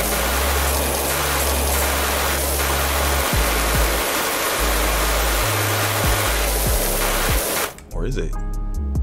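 Continuous roaring hiss of a pressure washer spraying water in PowerWash Simulator, steady and close, with someone talking over it and the spray stopping abruptly near the end.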